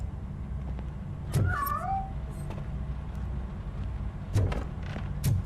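A single short cat meow in the video game RoboCop: Rogue City over a low background hum, followed by a few soft thumps and clicks.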